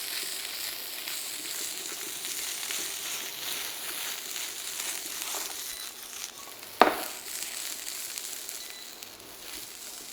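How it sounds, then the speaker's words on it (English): Whole cherry tomatoes and potatoes frying in a pan: a steady close hiss of sizzling oil throughout, with a single sharp clack of a utensil partway through, no talk. "So the tomatoes go in now whole, and we just want to blister them"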